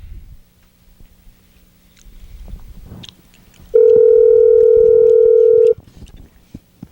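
A telephone call being placed: a steady, loud dial tone sounds alone for about two seconds after some faint background noise and brief handling sounds.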